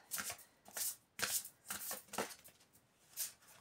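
Tarot cards being shuffled by hand in a quick series of crisp riffling bursts, close and alone with no talk.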